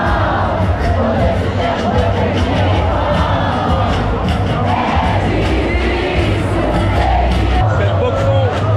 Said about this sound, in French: Vraiment incroyable le monde qu'il y a, le nombre de personnes qui viennent faire la fête dans la rue.